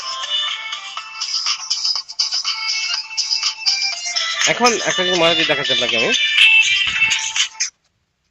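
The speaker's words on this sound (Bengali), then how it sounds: "এই যে কল চলে আসছে" A mobile phone rings with a repeating electronic ringtone as a Tasslock GPS tracker places an alert call after a car starts. Someone talks over it, and the tone continues loud and steady before cutting off abruptly.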